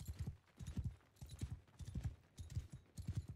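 Steady rhythmic hoofbeats of a galloping horse in Mount & Blade II: Bannerlord, loud and close, repeating in quick triplet-like clusters with no talk.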